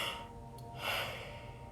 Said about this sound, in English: I have to yawn again.